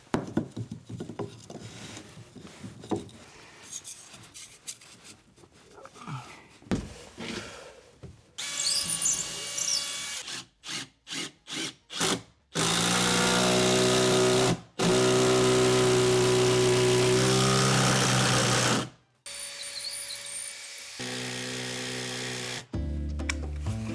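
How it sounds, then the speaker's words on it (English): A power drill pre-drills and drives screws into a wooden stair stringer in old stairs, with short bursts of whirring, several quick pulses, then two long sustained runs of motor whine, close and loud. "I'm gonna pre-drill the stringer just so I don't risk any wood splitting or cracking. Then I can drive in my new screw."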